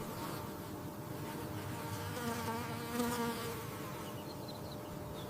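A bee buzzes in a steady, droning hum that holds for the whole stretch, swelling slightly in the middle as if passing nearer, with no voices.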